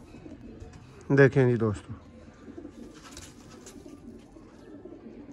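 A breeder pigeon, a famed spotted type, gives one short, loud burst of throaty cooing near the start, followed by quiet background and someone speaking briefly.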